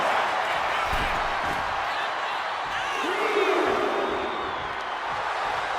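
A virtual arena crowd in the wrestling video game WWE 2K26 roars in a sustained, dense wash of cheering during a women's match, with a few brief whoops and thuds rising out of the steady noise.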